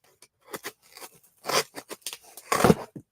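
Several crisp snips and crunches of scissors cutting, irregularly spaced, close up and fairly quiet, with no talking.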